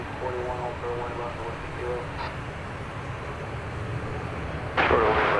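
Jet airliner taking off at DFW Airport at night, a steady broad engine roar held throughout with a sharper, louder burst near the end, under faint radio-style chatter.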